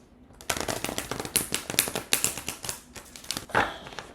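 Rapid riffling bursts as an oracle card deck is shuffled, a series of crisp close flutters and snaps with brief pauses between.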